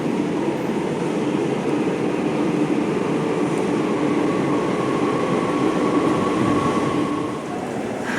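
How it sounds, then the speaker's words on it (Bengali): A metro train rumbles steadily with a continuous roar, easing off slightly near the end; no one speaks. "আমাদের মেট্রো আসছে"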